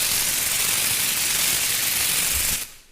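A lightsaber lockup effect, a dense, loud electrical crackle and sizzle with the midrange cut away, holds steady for over two seconds and then cuts off abruptly.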